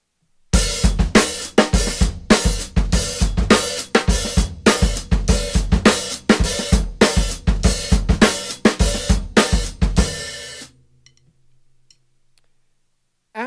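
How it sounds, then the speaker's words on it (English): A drum groove with the open hi-hat on each downbeat, steady and loud with a dense cymbal wash over kick and snare hits, running about ten seconds before stopping into near silence. "put your open hi-hat on the downbeats"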